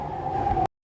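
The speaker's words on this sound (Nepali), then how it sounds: "हाम्रो ट्रेन पनि आयो यहाँनिर" A train pulls into a station platform in Japan, a brief close rumble with a sustained mechanical whine that ends sharply.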